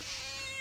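A cat gives one short, near meow with a drawn-out, slightly wavering pitch, heard alone without other voices.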